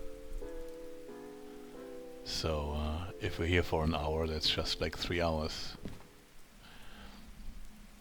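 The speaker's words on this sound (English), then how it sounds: "since it's raining all goddamn day" Steady rain patters through the whole stretch in the train simulation game Derail Valley, a soft wash sitting under someone talking over most of it.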